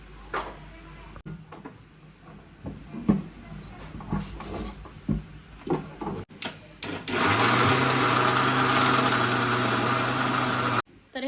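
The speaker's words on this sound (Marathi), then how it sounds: "हे सगळं वाटण आपल्याला मिक्सरमधून काढून घ्यायचं" A mixer grinder grinding chutney paste with a little water roars into a loud steady whir after several seconds of clattering and handling noises, running continuously before cutting off abruptly.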